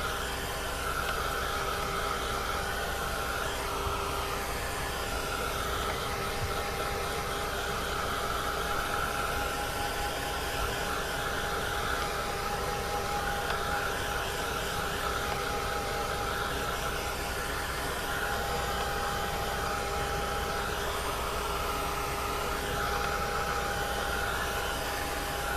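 A hair dryer blows steadily on a junk journal page, a continuous loud whooshing roar that holds evenly throughout with no talking.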